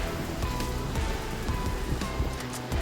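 Ground spices with ginger and garlic fry in a pan for kadai chicken, giving a dense, steady crackling sizzle up close, like light rain, with scattered pops and no talking.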